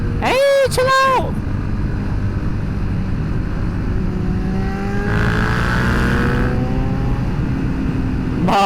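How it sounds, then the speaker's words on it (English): A Yamaha FZ-07 motorcycle engine rumbles steadily with a rattly exhaust, rising and falling in pitch as it revs, with a brief voice at the start. "My exhaust is so rattly."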